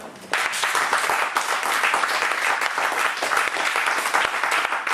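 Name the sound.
congregation applauding to acclaim the Lord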